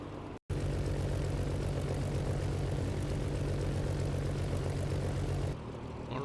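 XF-11 propeller aircraft in a flight simulator game, a loud continuous low engine drone with a steady propeller hum, cut by a brief dropout near the start and easing slightly toward the end, with no voices.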